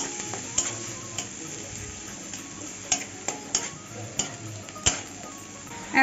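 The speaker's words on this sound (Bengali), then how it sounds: "এক চামচ রসুন বাটা দিয়ে দিচ্ছি একটু ভালো করে কষিয়ে নেবো" Ginger and garlic paste sautéing in a pan, a soft continuous sizzle broken by scattered clicks and scrapes of a spoon stirring against the metal.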